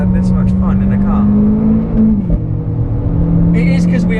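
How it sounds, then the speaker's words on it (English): Renault Clio R.S. on a race track in the south of France on a hot day: a loud, close, steady in-cabin engine drone that shifts pitch mid-clip as the gear changes, with a voice talking over it. "the noise with the pops on the upshifts and everything, the gearbox"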